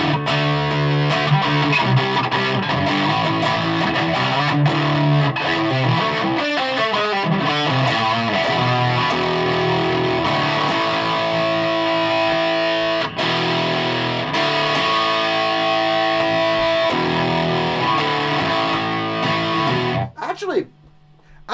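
A Gibson Les Paul 50s Tribute electric guitar through a Rat distortion pedal, heavily distorted, playing dense chords and riffs, loud and continuous, ending with a brief trailing ring and a few fading notes.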